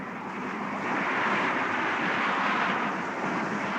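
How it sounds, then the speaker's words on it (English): A steady, broad rotor-and-engine roar hangs overhead, holding level for several seconds with a slight swell in the middle; no voices. "The Spectrum helicopter is overflying the motorcade."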